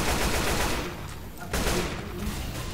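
Rapid automatic gunfire in the Left 4 Dead 2 zombie shooter, loud and continuous bursts with a brief dip midway before the firing resumes at full intensity.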